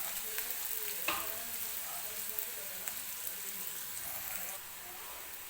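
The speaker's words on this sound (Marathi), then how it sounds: "तर हा कांदा आपल्याला मऊ होईपर्यंत भाजून घ्यायचा आहे तेलामध्ये." Chopped onion with a little garlic fries in hot oil for a gavar (cluster bean) vegetable dish, giving a steady close crackling sizzle with occasional sharper pops and light stirring scrapes throughout, easing slightly near the end.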